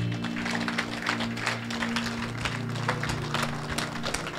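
Steady applause from wedding guests greeting the bride as she enters, a dense wash of clapping under music, held at an even level throughout.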